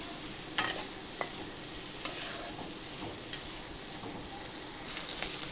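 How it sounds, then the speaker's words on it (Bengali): Tomato and other ingredients fry in a pan over a low flame, making a soft, steady sizzle broken by occasional light scrapes and taps of a stirring utensil. "এইগুলো আমি একটু ভাজা করে নেবো"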